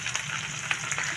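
Onions, curry leaves and ginger pieces fry in a pan for upma, giving a loud, continuous sizzle with a few quick stirring scrapes.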